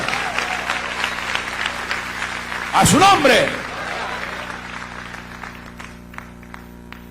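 Congregation applause at a Spanish-language church testimony service, steady crowd clapping under a preacher's voice, briefly overtaken midway by a loud, wavering vocal outburst, then continuing as the clapping thins.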